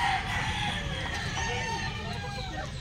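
Chickens in a poultry range area cluck and crow steadily, close and fairly loud, with a voice speaking faintly underneath.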